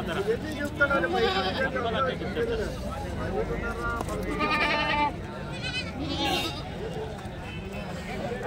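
Goats at a livestock market bleat repeatedly, loud and close, with several overlapping calls mixed with people talking in the crowded market.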